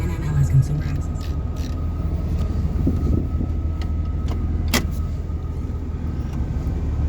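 A 2006 Ram 2500 with the 5.9L diesel engine and 203,000 miles idles with a steady low rumble, and a person talks over the running engine.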